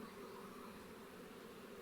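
A honeybee swarm fanning its wings while Nasonov scenting makes a faint, steady, continuous buzzing drone with no breaks, heard alone.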